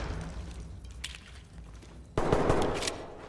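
Gunfire in a police-themed first-person video game: a dense burst of rapid shots erupts loudly about two thirds of the way in, following quieter distant pops and background game noise.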